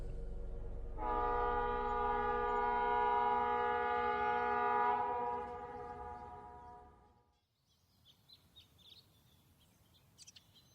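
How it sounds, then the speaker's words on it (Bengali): A long, loud train whistle blares steadily for several seconds alongside the rumble of a passing train, then cuts off and fades into near quiet with faint bird chirps in the distance. "ট্রেনের বাঁশি বাজল।"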